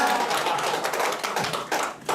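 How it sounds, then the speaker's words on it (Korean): An audience at a lecture for happiness-instructor job training claps together. The dense, fairly close patter of hands runs through the whole short burst, and no one talks over it. "이렇게 박수 한번 치면 신이 나죠."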